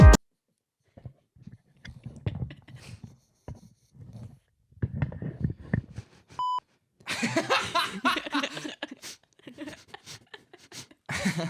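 A single short censor beep, a steady electronic tone, masks a name partway through casual podcast chatter, with people talking before it and laughter after.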